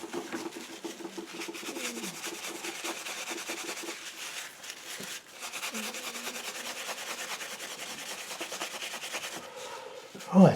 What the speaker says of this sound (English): To do that, I'm going to have to scrape off the middle of this.